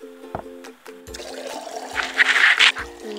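Warm water pours in a baby care mobile game, a bright splashing, gushing stream that swells and peaks in the second half. Short soft tonal game blips come before and around the pour.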